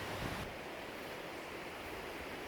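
Strong wind at a river park in Mauritius, a constant broadband rush buffeting the microphone with no pauses.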